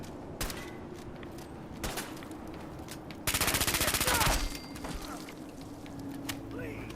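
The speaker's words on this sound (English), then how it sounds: "I got this splatter cannon in Nuka World." A splatter cannon fires in Fallout 4, a loud burst of rapid, crackling automatic shots lasting about a second, with scattered sharper in-game clicks and thumps before and after over a steady background hum.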